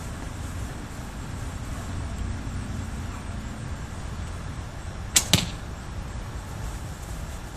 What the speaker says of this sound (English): when fully drawn, it does, push the arrow pretty fast